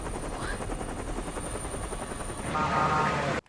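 Helicopter from the film Terminator: Dark Fate, a steady rotor thrum with a whining engine tone that swells louder near the end before cutting off abruptly.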